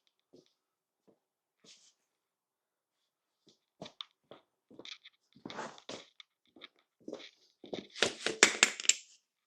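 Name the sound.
speedometer drive falling out of motorcycle wheel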